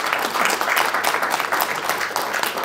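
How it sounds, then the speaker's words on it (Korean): Audience at a political lecture gathering in Gwangju claps in welcome for a respected adviser, a continuous, fairly loud wash of many hands throughout. "정종숙 고문님 박수로 환영합니다"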